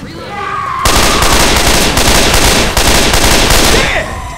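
Loud, close automatic gunfire in the video game Left 4 Dead 2 bursts in suddenly and rattles on as a dense, continuous volley for several seconds before easing off.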